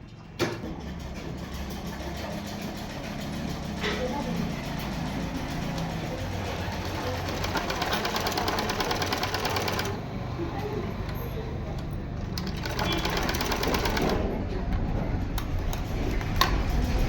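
A sewing machine stitching a single blouse runs steadily with a fast, even mechanical ticking and motor hum, pausing briefly a couple of times, while someone talks over it.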